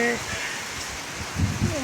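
Heavy rain pouring down as a steady broadband hiss, with people talking over it.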